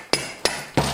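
Three sharp metallic hammer taps, evenly spaced, knocking the axle out of an Etesia Pro 51 mower gearbox during repair, each strike ringing briefly, close and loud with no talk.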